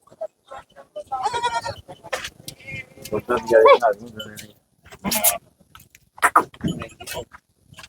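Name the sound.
goat bleating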